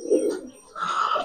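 A Kaldom pigeon coos close by in two soft phrases, a low throaty burble followed by a brighter rolling call after a short gap.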